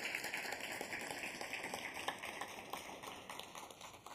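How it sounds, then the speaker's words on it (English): Audience applause at a Phi Theta Kappa (Alpha Alpha Rho) spring 2025 induction ceremony, a steady wash of many hands clapping for about four seconds at moderate distance, with no talk over it. "Can we get another hand of applause, please?"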